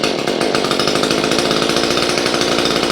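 A STIHL MS 150 TC top-handle chainsaw with a modified muffler runs loud and close, its small two-stroke engine holding a harsh, raspy, steady buzz throughout.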